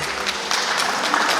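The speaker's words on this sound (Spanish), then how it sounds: "A ver los aplausos fuertes para que se animen los novios." Wedding guests applaud the couple at a silver wedding anniversary party, a steady wash of clapping from a crowd filling the room throughout.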